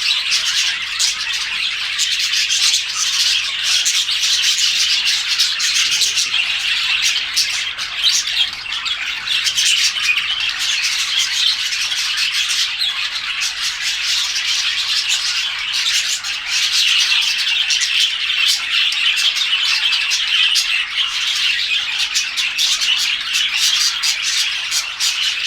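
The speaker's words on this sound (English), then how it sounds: "I had to come back because I heard that loud chirping." Pet budgies chirp and squawk loudly and without pause, a dense flock of overlapping high chatter filling the room close by for the whole stretch.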